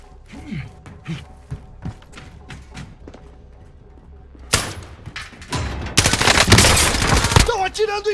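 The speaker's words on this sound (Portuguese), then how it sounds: "Estão atirando em mim!" Gunfire aimed at the player in Call of Duty: Modern Warfare, loud bursts and rattling shots building toward the end after scattered clicks and thumps, with some faint game voice.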